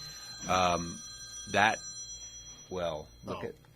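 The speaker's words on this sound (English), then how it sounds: "My Facebook Live phone that was propped up. I'm receiving a call" A mobile phone propped up for a live stream rings with an incoming call, four loud tonal bursts in an even pattern, close by and with no talking.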